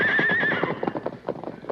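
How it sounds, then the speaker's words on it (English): Horses neigh and whinny with a brief clatter of hooves close by, a short burst of livestock sounds at a stagecoach stop where a team is being unhitched in a Western radio drama. "Dirk finished unhitching the horses."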